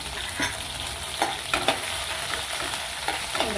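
Grated garlic, green chilli and ginger sauté in hot oil with cumin, a steady close sizzle broken by scattered crackles and spoon scrapes, with no voices.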